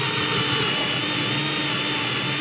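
A power drill bores a pilot hole with a steady, close, high-pitched whir that runs unbroken at constant loudness for a couple of seconds, with no talking.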